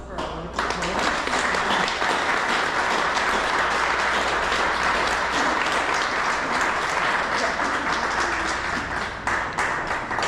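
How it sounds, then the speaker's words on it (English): A poetry event audience gives a loud, sustained round of applause for the poet, dense clapping filling the room for about ten seconds with faint voices mixed in. "please give a round of applause for our wonderful poet"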